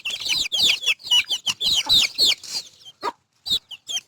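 Backyard hens in a home coop cluck in a rapid, busy run of close calls that thin out into a few scattered clucks with gaps toward the end.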